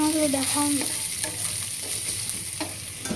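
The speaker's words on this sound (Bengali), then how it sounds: "এখানে এই যে পেঁয়াজ লঙ্কা একটু রসুন শুকনো লঙ্কা সব দিয়ে দিয়েছি। এটা একটু ভাজা ভাজা করে" Onion, green chili, garlic and dried red chili fry in a pan, a close steady sizzle with occasional stirring scrapes and a brief tonal squeak early on, no talking.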